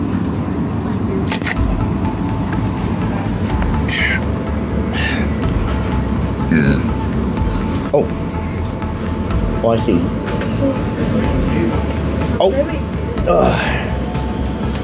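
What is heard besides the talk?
train passing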